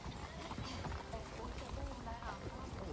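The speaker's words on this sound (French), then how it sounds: "Et le beau cheval à Mélissa, qui a vraiment pas l'habitude de faire des tours de remorque." A horse's hooves clip-clop steadily on a trail ride near Rimouski, faint and low under a voice talking, with some rustling.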